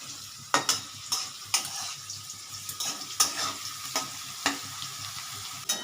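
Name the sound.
frying and stirring spice masala for ghugni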